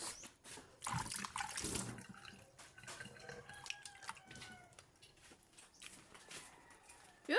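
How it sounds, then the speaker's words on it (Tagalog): Hands washed under a running kitchen or bathroom tap, a soft steady stream with splashes and drips, close by, with a brief louder gush at the start and no clear voices. "Maghugas lang tayo ng ating kamay, guys"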